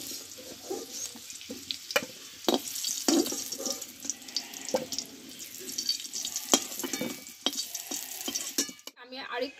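Small potatoes with bits of skin left on are stir-fried in mustard oil in a home kitchen, spoon scraping and clacking against the pan in irregular strokes over a soft sizzle, close and fairly clear.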